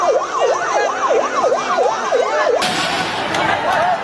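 An ambulance siren wails in a fast, repeating up-down yelp, loud and close amid a street protest in Nepal, then gives way to a burst of broad crowd and street noise.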